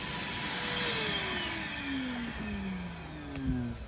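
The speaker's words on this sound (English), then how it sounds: "We have one of our Cooney fans blowing out so that all of the fiberglass dust in there isn't gonna stay stuck in there" A Cooney fan blows fiberglass dust out of a Hallberg Rassy 352 sailboat with a rotten mast beam. It makes a steady, close whooshing drone, and its pitch wavers slightly as the airflow shifts.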